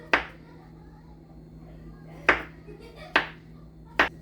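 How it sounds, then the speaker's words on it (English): A kitchen knife cuts through garlic and mushrooms on a cutting board, four crisp chops that land close and clear, spaced irregularly with quiet pauses between them. "And I'm gonna cut up this garlic as thin as possible. And I'm just gonna slice the mushrooms."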